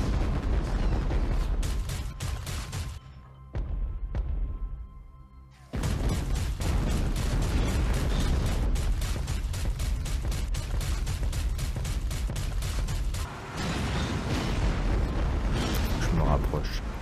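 Aircraft gunfire in the IL-2 Sturmovik: Battle of Stalingrad flight game, played in VR, comes as loud sustained bursts of rapid shots over engine roar, with a brief lull partway through.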